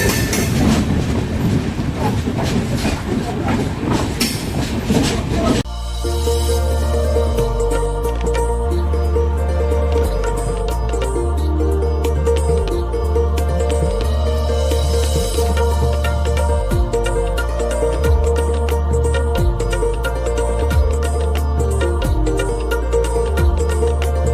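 A Sawantwadi Diva Express train rolls along the rails on the Khed to Thane run, producing a loud, continuous rumble that shifts partway into a steady droning hum with rhythmic wheel clatter.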